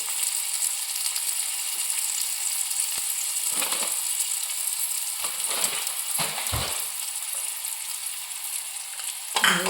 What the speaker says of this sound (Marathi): आता ह्याच्यामध्ये आपण मसाला भाजून घ्या थोडासा तेलामध्ये